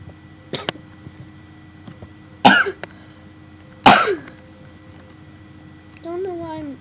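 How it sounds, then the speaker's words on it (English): A person coughs in two sharp, loud bursts with a few fainter coughs around them in a quiet room, followed at the end by a brief voiced sound. "Don't know why I'm coughing so much."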